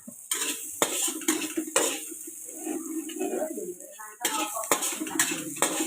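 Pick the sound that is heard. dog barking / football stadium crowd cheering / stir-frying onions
stir-frying onions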